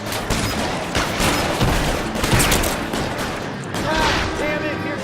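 Bursts of gunfire crackle loudly in the video game L.A. Noire, rapid overlapping shots forming a dense fusillade under game ambience, with voices talking over the shooting.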